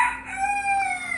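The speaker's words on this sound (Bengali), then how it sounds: "আর আমি যখনই ভয়েস দিই তখনই আমার এই মোরগটা কক করে ডাকে" A rooster close by lets out a short, clear crowing call at a home where fish is being fried, the drawn-out tone sliding slightly as it carries alone.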